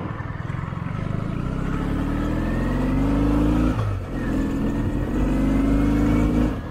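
Kawasaki Ninja motorcycles ride off on the road, their engines revving loudly and rising in pitch through the gears, with a brief dip between pulls before the roar climbs again.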